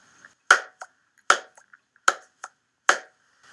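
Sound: hand claps for syncing audio and video

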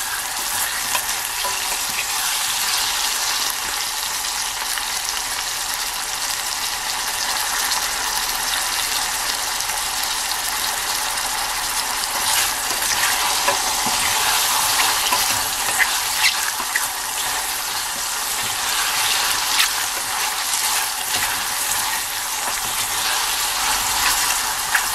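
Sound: mushrooms frying in garlic oil over low heat

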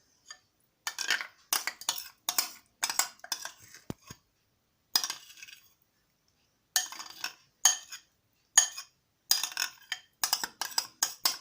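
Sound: mixing autumn herring salad ingredients with utensils

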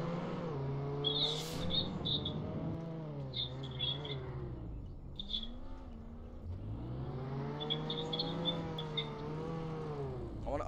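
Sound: car driving and revving in a Roblox video game

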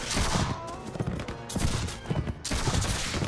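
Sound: musket volley fire in Mount&Blade With Fire and Sword video game

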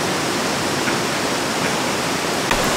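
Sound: river water flowing beside campsite

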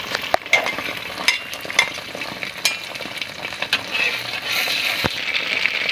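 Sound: eggs frying in oil for an omelette

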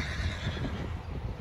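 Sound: horse neighing

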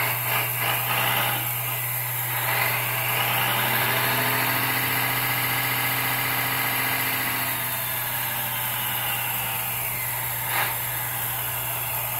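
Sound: RC hydraulic excavator engine sound

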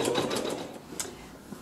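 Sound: embroidery sewing machine sewing cross stitch

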